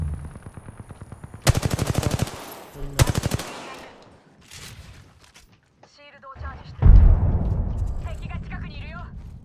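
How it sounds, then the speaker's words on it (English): Bursts of automatic gunfire from the video game Apex Legends ring out in rapid strings, with sharp single shots and impacts in between, loud and close with some game effects layered around them. "Getting shot at."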